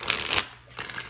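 Tarot cards being shuffled by hand, a dense papery riffle that runs for a moment, pauses briefly, then resumes, close and fairly quiet.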